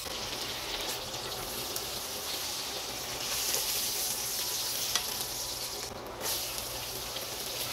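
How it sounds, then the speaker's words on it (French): Salmon fillets frying in a pan with butter or oil, a steady close sizzle that crackles and flares briefly now and then. "j'ai presque fini de griller mes poissons"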